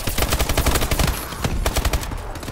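Gunfire in the Call of Duty Advanced Warfare shooter game: rapid automatic fire in dense, overlapping bursts, loud and close, continuing for the whole stretch with little pause.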